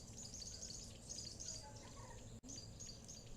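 Faint birdsong with high chirps and tweets over a quiet outdoor background at a waterhole in Hoedspruit, South Africa, with a soft insect-like hum underneath.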